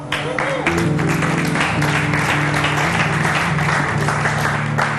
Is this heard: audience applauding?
yes